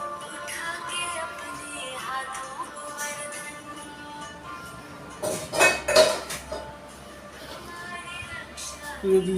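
Pots and dishes clatter in a home kitchen as breakfast is cooked in the morning, a steady scrape and clink with a louder burst of metal knocks midway, under low background voices.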